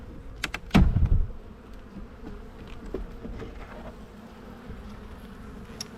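Honey bees hum and buzz around an opened hive as a frame is pulled, with a brief thud and scrape early on, then a steady, close drone.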